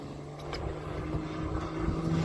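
An aerobatic airplane at an airshow is heard as a steady, fairly distant engine and propeller drone with wind noise, sustained without pause and no talk.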